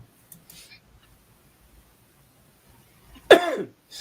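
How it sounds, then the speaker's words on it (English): A single harsh cough rings out close by after a few seconds of near silence broken only by faint small noises. "I'm just coughing."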